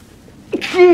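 A single close, sharp human sneeze bursts out abruptly at the end of a short, quiet stretch.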